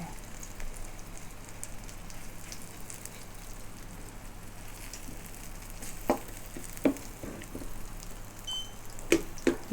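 Egg omelette with cha-om cooks gently on low heat, giving a soft, continuous crackling sizzle with a few sharper clinks and pops near the end, and no voices.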